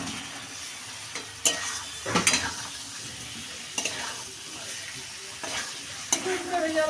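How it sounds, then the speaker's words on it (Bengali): Potatoes frying in a pan with ginger-chili paste, tomato and ground coriander-cumin, a steady sizzle broken by several sharp scraping stirs of a spatula, close and without talk. "এখন আলুগুলোকে ভেজে কষিয়ে নেব মশলার সাথে"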